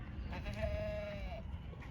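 A pregnant Sirohi goat lets out a single drawn-out bleat of about a second, fairly close and moderate in level, over low background rumble.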